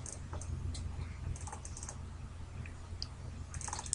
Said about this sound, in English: It's a double click at every point.